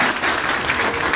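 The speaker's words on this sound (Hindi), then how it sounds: "और इसके लिए जोरदार तालियां" A crowd at a quiz event gives hearty applause, a dense, loud, continuous patter of clapping that holds steady for about a second.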